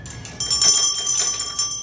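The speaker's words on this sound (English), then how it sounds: "researchers describe teaching 18 pet parrots to ring a bell" Pet parrot ringing a bell, a quick series of bright metallic rings with sustained high tones, close and fairly loud, lasting under two seconds.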